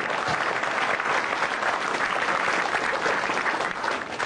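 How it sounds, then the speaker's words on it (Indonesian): A studio audience at a televised stand-up comedy show applauds after a set, with an even, energetic roar of clapping from many people that holds constant from start to finish. "Tepuk tangan sekali lagi untuk Akbar."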